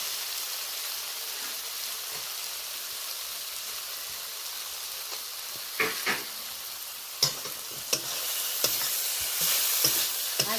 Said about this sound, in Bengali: আদা বাটাটা দেওয়ার পরে বেশ কয়েকবার নাড়াচাড়া করে নিলাম